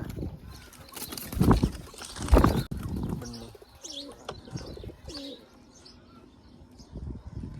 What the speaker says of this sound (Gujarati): કબૂતર બેઠા